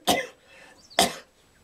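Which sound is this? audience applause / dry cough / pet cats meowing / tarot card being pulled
dry cough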